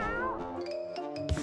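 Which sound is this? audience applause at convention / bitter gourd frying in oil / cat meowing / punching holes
cat meowing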